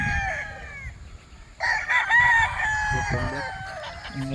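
Roosters crow in long rising calls while hens cluck around them on a farm with tethered broodcocks and broodstags, several birds close by and overlapping, with faint voices underneath.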